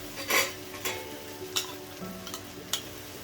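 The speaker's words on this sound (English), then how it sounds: "Mix it and keep stirring it and fry this on high flame." Whisked yogurt hits powdered masala in a hot pan over high flame, sizzling and frying steadily while a spoon scrapes and stirs in several sharp bursts.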